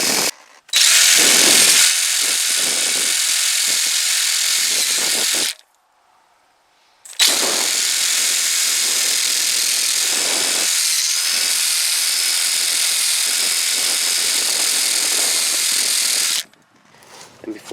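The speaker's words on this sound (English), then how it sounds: "I'm also going to wire wheel these surfaces here." A power wire wheel scrubbing the hub surfaces of a Hyundai Santa Fe Sport during a front brake job, loud close high-pitched grinding in two long runs separated by a short pause.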